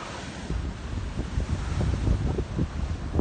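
Ocean waves surge and break after a storm in Boston: a steady, loud roar of surf mixed with wind buffeting the microphone, with low rumbling swells building and swelling throughout.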